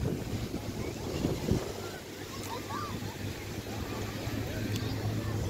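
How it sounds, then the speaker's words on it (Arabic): A boat moves across the sea off Arkman village, with steady low engine or hull rumble, water wash and gusts of wind buffeting the microphone, fairly faint and continuous. "احنا يا رانا مبحرين دابا في هذا البحر ديال قريه اركمان"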